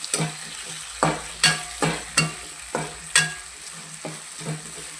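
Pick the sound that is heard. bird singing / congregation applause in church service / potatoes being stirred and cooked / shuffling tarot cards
potatoes being stirred and cooked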